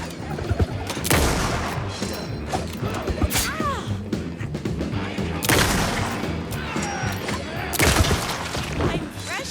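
Gunfire in the video game Alan Wake 2: loud, dense bursts of shots with crashing impacts over a noisy action mix, three heavy volleys standing out, with a voice heard amid the chaos.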